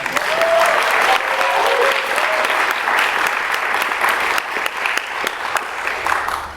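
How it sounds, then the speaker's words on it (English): An audience at a middle-school declamation contest applauds the student declaimers, steady dense clapping throughout, loud and full with no speech over it. "yes, you can clap"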